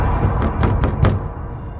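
Knocking on a door in a Hindi cartoon: four quick, evenly spaced raps in a brisk rhythm, close and fairly loud, followed by quieter room tone.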